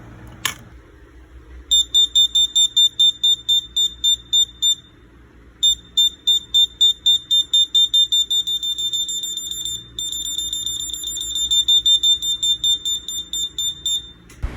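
An Arduino-driven electronic buzzer on a social-distancing badge beeps in rapid, regular bursts of high-pitched tones, pausing briefly between runs, loud and close over faint background noise.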